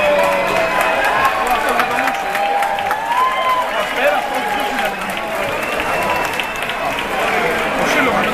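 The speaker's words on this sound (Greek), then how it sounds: "Χειροκρότημα." Audience applause in a crowded hall, a steady roar of many hands with some cheering, loud and continuous, with a voice speaking over it.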